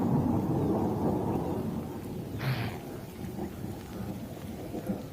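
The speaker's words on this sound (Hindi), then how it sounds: "और साथ में गर्मियों की बारिश।" Steady summer rain falls in a dense wash, with a brief rumble of thunder rolling in partway through.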